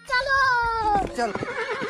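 A cartoon horse lets out a loud, high whinny that wavers and falls away over about a second, followed by a short rough snort.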